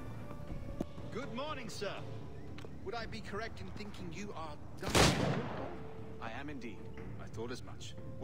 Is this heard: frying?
no